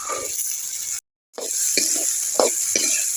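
Salt-boiled carrots, beans and green peas stir-fried in hot oil in a pan: steady crackling sizzle with scraping stir strokes, briefly cut off by a short silent gap before the sizzling resumes.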